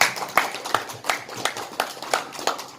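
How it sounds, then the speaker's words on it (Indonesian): Audience applause at a company visit event: a run of sharp, evenly spaced claps close to the listener, about three per second, with no voices. "Tepuk tangan."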